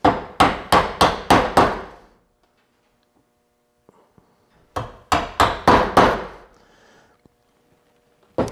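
Hammer blows on a chisel chopping wood for small drawers, two quick runs of five sharp strikes each, separated by a quiet pause, close and crisp with short decays.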